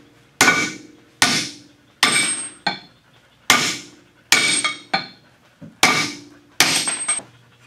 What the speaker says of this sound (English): position it over the lug stud, and then hit it with another hammer